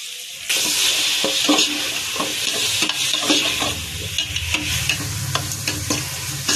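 Tomatoes roasting in a pan with onion, fennel and curry leaves, a loud steady sizzle with frequent close scraping stirs and occasional clinks of the utensil, no voices.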